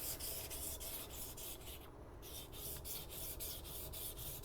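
A steel blade is rubbed back and forth on waterstones, each stroke making a gritty scraping swish in a steady repeating rhythm, close and fairly quiet.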